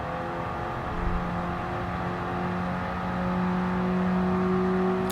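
A 2008 Fiat 500 revs on the Nürburgring in Gran Turismo, a steady engine drone whose tone climbs slowly as the car accelerates, loud and continuous with no talk.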